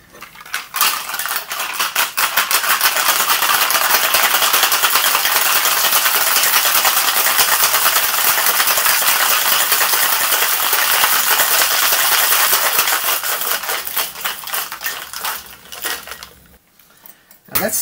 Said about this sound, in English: Let's get some ice. Let's give it a shake.